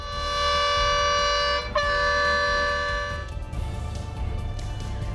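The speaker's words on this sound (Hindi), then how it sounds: "बस ड्राइवर ने साहस दिखाया और बस को वहां से नहीं हटाया, जबकि हॉर्न बजाकर हाथी का ध्यान भटकाया" A bus horn blares to scare off an elephant: one long loud tonal blast, a brief break, then a second sustained blast that fades into rumbling background noise.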